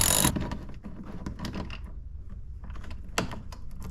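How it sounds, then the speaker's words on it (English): Phillips screwdriver slowly turning out a screw inside a Mercedes W124 door window assembly, a close, quiet series of small clicks, creaks and ratcheting ticks with brief pauses between turns. "now using the Phillips head, you're gonna carefully unscrew this"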